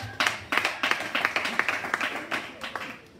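A church congregation applauds with quick, steady, rhythmic clapping that keeps an even beat throughout, moderately loud and close.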